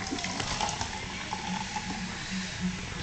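Liquid poured into a glass while making a cocktail, a soft continuous trickling and splashing heard close up and faint.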